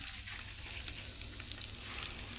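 Anchovies (dilis) frying in hot oil in a pan, giving a steady, even sizzle with a fine crackle that holds at a moderate level throughout, with no talking.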